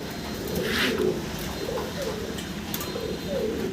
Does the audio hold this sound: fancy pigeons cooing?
yes